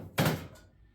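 A metal ammo-can wood stove door being fitted gives one sharp thunk, a short resonant clank that rings briefly and fades, close and alone.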